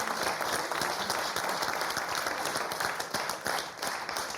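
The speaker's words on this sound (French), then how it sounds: "Applaudissements pour Céline et Gaëlle." Steady studio audience applause on a French television game show, dense clapping held at an even level throughout with no voices over it.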